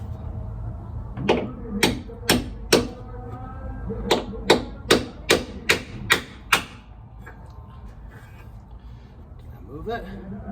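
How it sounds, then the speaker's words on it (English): A chisel is hammered behind a washer on a rear bumper bolt, giving about eleven sharp metallic strikes in two quick runs with faint background voice. "Let's see if I can get this chisel up behind it."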